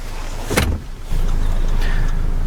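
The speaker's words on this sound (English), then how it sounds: "pull the handle here to release the seat. And we can just fold this end up as well." A rear seat in a Land Rover Discovery Sport HSE is released by its handle and folded, making a single solid clunk near the start over a steady low cabin hum, close by with no talking.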